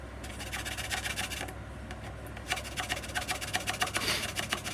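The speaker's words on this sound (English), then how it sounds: "just kind of filing, making it nice and square" A hand file rasps back and forth over wood, squaring the track area of a handmade wooden flute, with steady close scraping strokes that grow quicker and more pronounced in the second half, and no talking.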